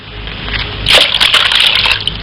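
Water poured over a man down a well in a comic scene, a loud splashing gush that starts softly and surges into a sustained slosh lasting over a second, with a few sharper spatters.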